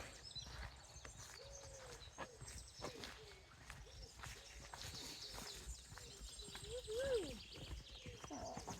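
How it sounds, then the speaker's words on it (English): Slow, steady hoof clops of a horse walking nearby on the Camino de Santiago between Melide and O Pedrouzo, with birds chirping in the background and faint voices. "That's a pretty horse."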